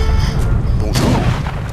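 Cannon fire in the Age of Empires video game: a few booming in-game shots land over a low rumble of battle, loud and close, each blast followed by a brief decay.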